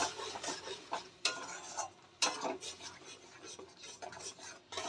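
A paste of poppy seed and green chilli fries in a pan, a soft sizzle under scraping stirs and occasional sharp clinks of a utensil against metal, close but fairly quiet.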